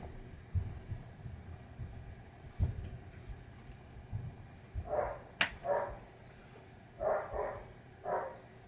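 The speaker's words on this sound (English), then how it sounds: "You can hear my dog, Comet the pinball dog." A dog gives several short, muffled barks in the second half, some in quick pairs, faint and somewhat distant, over a low room hum and scattered thumps in a workshop where a 1973 Williams pinball machine is being repaired.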